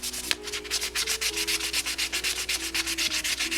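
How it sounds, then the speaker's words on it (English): Rhythmic back-and-forth rubbing of 600-grit sandpaper, quick even strokes repeating steadily at close range, no voices. "take a fresh piece of sandpaper"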